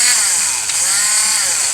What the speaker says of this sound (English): put in a Dremel tool basically. Just using the cordless one because that's convenient.